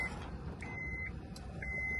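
A high, steady electronic car buzzer beeps in regular pulses over a low engine-like rumble, fairly faint, from a vintage car at a Manheim auto auction.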